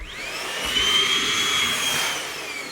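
A new Milwaukee Tool vacuum runs briefly up close with a steady high-pitched whine that swells and eases, heard alone.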